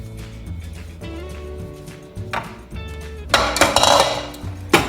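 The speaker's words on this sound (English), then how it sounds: "What you're going to do is dump this into your pan" Soft cake dough is tipped and scraped into a metal baking pan, giving dull knocks and clanks that cluster into a louder rattling burst toward the end, over a low background hum.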